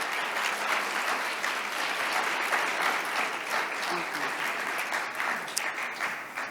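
An audience applauds steadily and fairly loudly after a keynote conversation with Phylicia Rashad at a conference, continuous clapping with some voices mixed in.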